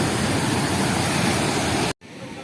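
Fast-flowing water at Bhimakund waterfall rushes in a loud, steady roar close by, then cuts off abruptly near the end, leaving only a faint hiss.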